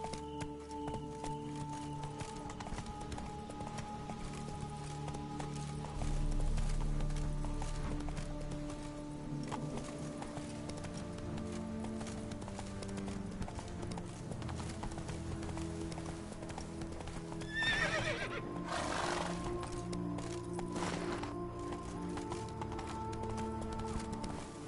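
Horse hooves clip-clop steadily at a run through The Witcher 3 video game, with a brief whinny, over continuous game music and ambience. There is no speech.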